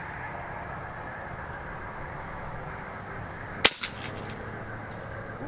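An AEA Challenger Pro air rifle fires a single sharp crack at a 200-yard target, followed by a faint distant impact, against steady outdoor background noise.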